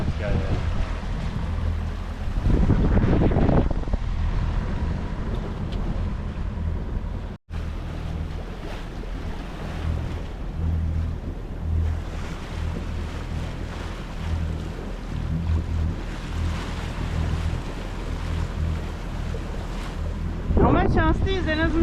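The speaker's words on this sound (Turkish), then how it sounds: "Bakalım şu an motorla gidiyor." Sailboat under engine power at sea, steady low motor drone with strong wind buffeting the microphone and water wash throughout, brief louder gusts near the start and end.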